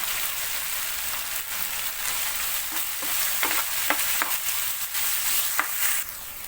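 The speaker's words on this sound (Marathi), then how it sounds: "डाळ आपल्याला दोन मिनटं तेलामध्ये छान परतून घ्यायची आहे" Lentils (dal) sauté in hot oil with ground green chili and garlic for a dill-greens (shepu) bhaji, giving a steady close sizzle broken by several scraping stirs of the spoon through the pan.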